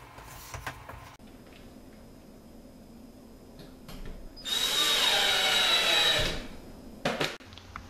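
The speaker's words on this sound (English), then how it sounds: "Secure this sheet up with drywall screws." A power drill drives drywall screws through a thin 1/4-inch sheet into a dome ceiling, a steady loud whine of about two seconds that rises over a quiet room and ends, with a few short knocks and handling sounds before and after.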